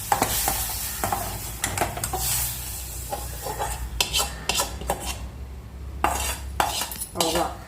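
Cooked dal being mashed with a spoon in a pot, quick irregular metallic clinks and scraping strokes close by over a soft background hiss.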